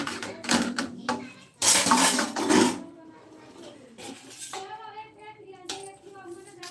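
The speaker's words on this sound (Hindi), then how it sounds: "आज मैं सोची बर्तन धो रही हूँ" Dishes being washed by hand, with loud rasping, scrubbing bursts near the start, then quieter clinking and rubbing while someone talks over it.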